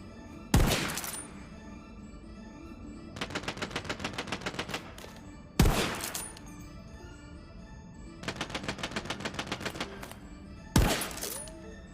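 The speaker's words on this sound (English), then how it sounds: "This is how I like sniper rifles to work." Sniper rifle gunfire in the video game Tiny Tina's Wonderlands: three loud, booming single shots evenly spaced, with rapid mechanical clattering reload bursts between them.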